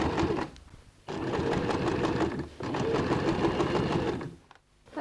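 A sewing machine stitches a seam on a shopping bag made from recycled jeans, running in three close bursts of rapid mechanical whirring separated by short pauses.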